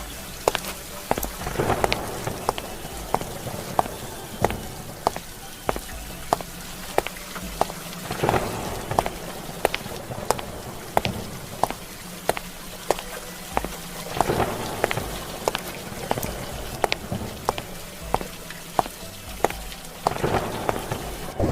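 Heavy rain pours down steadily in a rural farm setting, with rolling thunder rumbling through at intervals and sharp drop impacts scattered across the constant wash of the downpour; no one speaks.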